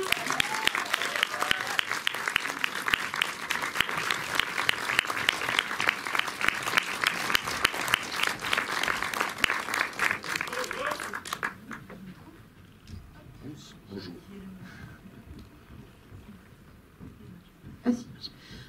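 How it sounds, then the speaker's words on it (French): A cinema audience at a film premiere gives dense, sustained applause for about eleven seconds before it quickly dies to a few scattered claps, light rustling and brief murmuring in a quieter room. "sous vos applaudissements"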